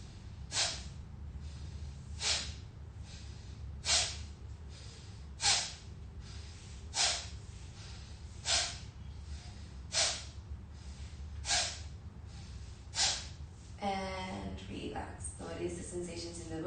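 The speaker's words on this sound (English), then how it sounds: "inhale." Slow, deep breaths during a meditation breathing exercise, about ten sharp airy inhalations spaced roughly every one and a half seconds, close and clear over a quiet hum, ending with a brief voice.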